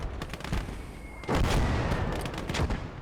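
Mortar fire in the WWII strategy game Call to Arms: Gates of Hell, with a sustained battlefield din of rumbling blasts and crackling gunfire that swells into a heavier burst midway and keeps rolling without any talk.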